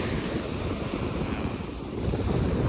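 Ocean surf rolls steadily onto the shore at Miami Beach, with wind buffeting the microphone throughout and a slight swell toward the end.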